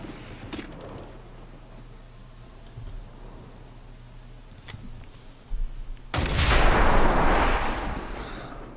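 In the video game XCOM 2, sparse gunfire cracks and small clicks come first, then a sudden heavy explosion bursts loud and booming, rumbling on for a few seconds, with no talk.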